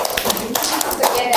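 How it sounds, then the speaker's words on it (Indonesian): Brief burst of audience applause for a student group after their presentation in a teacher-training class session, lively scattered clapping mixed with voices and close to the listener. "Kita beri aplaus untuk kelompok 3"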